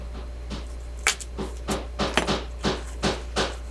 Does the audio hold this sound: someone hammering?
yes